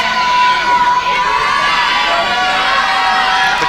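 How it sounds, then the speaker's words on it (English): A wrestling arena crowd jeers and shouts at wrestler JMM, a loud, steady wall of massed voices and high-pitched yelling that holds without a break. "The crowd giving JMM a piece of their mind, and rightfully so."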